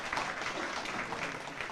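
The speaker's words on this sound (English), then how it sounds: "Give him a nice round of applause." Audience applause for Freeholder Quinn of Lacey Township at a senior nutrition site grand opening, a steady, dense clapping wash held at even loudness for the whole short stretch, with no voices standing out.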